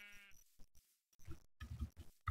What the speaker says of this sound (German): Man, die Schafe hier.